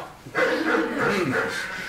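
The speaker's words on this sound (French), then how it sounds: "On entend les cris de mon chien à l'intérieur." Dogs inside an apartment whimper and yip in a continuous, strained whine, moderately loud and slightly muffled, with speech-like vocal texture mixed in.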